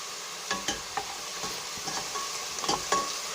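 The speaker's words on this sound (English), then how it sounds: "Trying to mix it well." Vegetable soup being stirred in a pot, with a series of light scraping and clinking strokes over a soft steady hiss, close by and fairly quiet.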